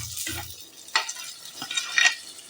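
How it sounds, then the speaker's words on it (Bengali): Potatoes dropped into hot oil seasoned with asafoetida, stirred with a few scrapes and clinks over a steady sizzle, with no talk. "হিং দিয়ে একটু নাড়াচাড়া করে আমি আলুগুলোকে ছেড়ে দিলাম"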